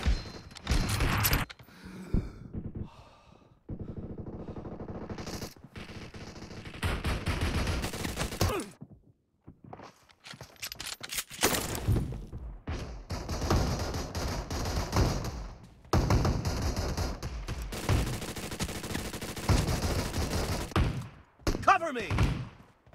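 Gunfire in the mobile battle royale PUBG Mobile, with bursts and single shots crackling in clusters through the clip, some loud and close, and a voice talking between them.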